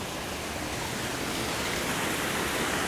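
Waterfall in a snowy landscape, a dense, even rushing hiss of falling water, steady and close for the full stretch with no voices.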